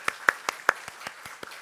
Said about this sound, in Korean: 우리 손뼉으로 하나님께 영광 돌리겠습니다